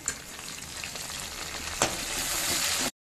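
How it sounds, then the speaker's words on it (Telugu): Curry leaves and okra frying in hot oil for a Telugu home meal, giving a steady close sizzle with a sharp crackling burst partway through, then cutting off abruptly. "ఇదే నూనెలో బెండకాయలు తీసుకున్నా, ఇదే నూనెలో కొంచెం కరివేపాకు వేసుకుందాం."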